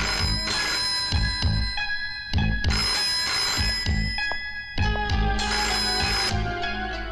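A telephone rings in repeated bursts of bright, trilling bell tones with brief pauses between them, loud and close, no voices.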